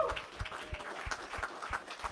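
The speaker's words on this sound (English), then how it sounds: "let's give a round of applause again for the panel." Audience applause for a panel at a real estate talk event, a few scattered claps in an irregular rhythm, fairly faint and thin rather than a full crowd.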